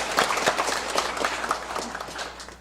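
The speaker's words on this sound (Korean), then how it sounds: "다시 우리 찬양대 우리 감사 박수 한번 하겠습니다." Church congregation applauding the choir during a Korean worship service, a steady wash of many hands clapping at moderate loudness across the whole stretch, with no voices over it.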